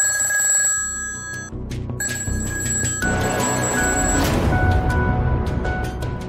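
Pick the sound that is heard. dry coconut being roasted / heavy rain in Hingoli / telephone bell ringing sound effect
telephone bell ringing sound effect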